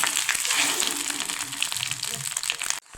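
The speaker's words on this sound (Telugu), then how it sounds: "ఈ యాట బేజని లో ఫ్లేమ్లో పెట్టుకొని మంచిగా కలుపుకోవాలి" Goat brain frying and being stirred in oil on a low flame in a home kitchen, a steady close sizzle with wet crackle that cuts off abruptly near the end.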